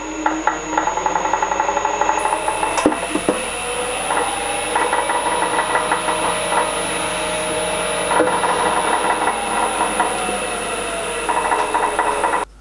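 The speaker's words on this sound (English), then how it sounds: "So I'm just going to use a 3 millimeter spotting drill first of all." A 3 mm spotting drill cuts a hole in metal on a drilling machine, a continuous motor whine with rhythmic rattling, chattering bursts and a steady high tone, loud and close with no talk.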